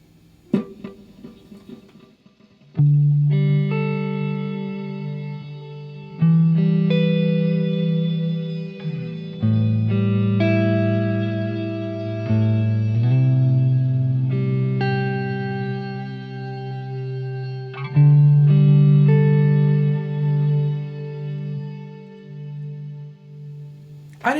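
Electric guitar played through a POLY Verbs reverb pedal, sustained chords and melodic notes blooming into lush, shimmering reverb tails, loud and alone with no talking.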